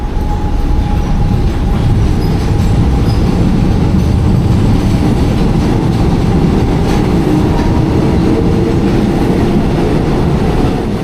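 An old Japanese-built Eidan 500 series subway train from the 1950s rolls along in Buenos Aires with a steady, loud rumble and wheel noise, the clatter continuing unbroken throughout.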